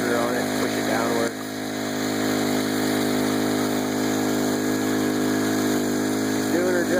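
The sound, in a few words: engine of a 2-inch gold dredge running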